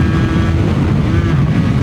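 Steady engine drone with wind rush from a Yamaha TZR 80 RR motorcycle being ridden, a smooth continuous hum holding at one level throughout, close and loud.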